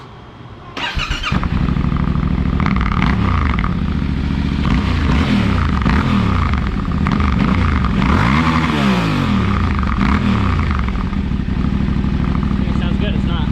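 Yamaha Tenere 700 (2023) motorcycle fitted with a Huzar exhaust, running close by at a steady idle with a few blips of throttle; people talk over the engine.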